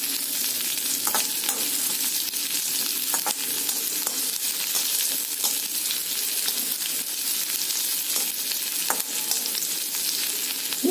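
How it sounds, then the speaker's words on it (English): Onion sautéing in a pan for banana stem rice: a loud, dense, unbroken sizzle with scattered clicks and scrapes from stirring, heard alone without speech. "Saute the onion"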